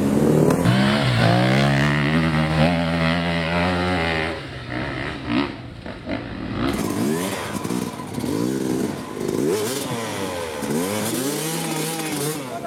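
Hard enduro motorcycles labour up a steep muddy climb in the Limousin, engines revving and straining in rising and falling whines, several bikes overlapping, with voices faintly underneath.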